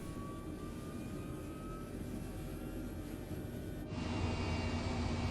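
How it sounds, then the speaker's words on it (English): H135 helicopter from Microsoft Flight Simulator 2020 spins up in a simulated engine start, a steady mechanical whine and rumble that thickens and grows slightly louder near the end, with no talking. "it's a fully automated startup process, so we basically flip the switch and make sure it's good to go"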